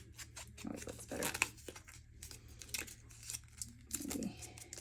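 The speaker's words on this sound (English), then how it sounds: "Just gonna crumple that up a little." Paper is crumpled by hand while crafting ephemera tags and envelopes, giving quiet, intermittent crinkling bursts and rustles with short pauses between them.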